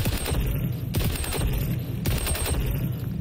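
ACR assault rifle firing on a shooting range in the video game XDefiant: sustained, dense automatic fire that rolls on steadily at a fairly even loudness with little talk.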